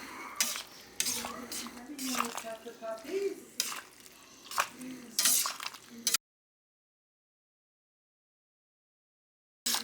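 Parmesan cheese being stirred into creamy Cajun pasta in an Instant Pot, with uneven scraping and clinking of a utensil against the pot, then a sudden cut to silence.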